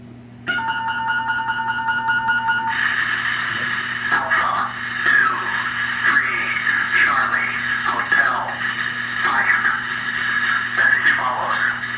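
Alarm message over the radio in a Titan missile silo: a steady tone with an upper harmonic stack opens, then a filtered voice speaks over a constant hum and tonal drone, near and continuous.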